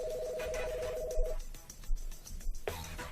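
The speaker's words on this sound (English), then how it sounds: "Dial 4 now, call my cell phone." An office desk phone dials out to a cell phone, with a steady two-tone dialing signal for about a second, then quiet line noise and a few faint clicks before another short tone near the end.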